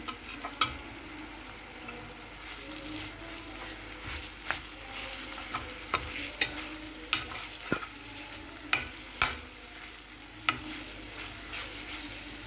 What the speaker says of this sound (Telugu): ఒక స్పూన్ అల్లం వెల్లుల్లి పేస్ట్ వేసుకుందాం పచ్చివాసన పోయేదాకా వేయించండి